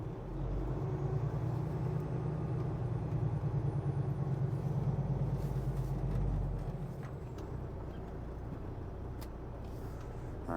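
A semi truck reverses slowly, its engine a steady low rumble that swells in the first seconds and then eases to a quieter idle, with no voices.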